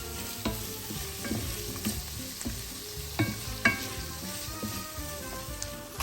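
Fusilli pasta with red pesto being stirred in a pan, a spoon scraping and knocking in irregular strokes over a soft continuous sizzle, close and alone.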